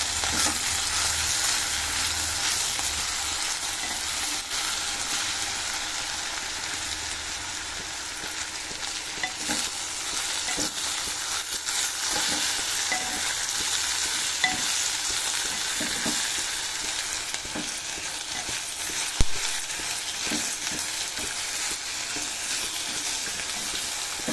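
Moringa leaves fry in a pan, a constant bright crackling sizzle with occasional faint stirring clicks throughout.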